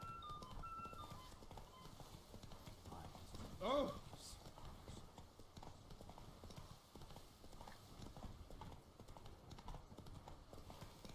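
Roach, the horse in The Witcher 3: Blood and Wine, gallops with faint rhythmic hoofbeats beneath game ambience and someone talking, plus one brief louder swell partway through.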